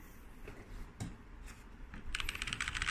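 Typing on a Tecware Phantom RGB TKL budget mechanical keyboard, soft muted key clicks in a quick, uneven run, fairly quiet and close, growing denser toward the end.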